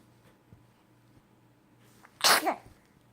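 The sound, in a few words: penguin sneezing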